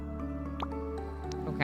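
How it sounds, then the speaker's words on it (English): Several soft liquid drip and splash sounds from crops being watered in the casual farming game Happy Sheepies, short bright plops scattered over a steady layer of game music. "Water the crops."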